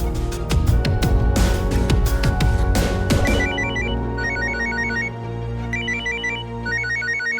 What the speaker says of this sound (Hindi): एक बार राज को ट्राई करती हूँ।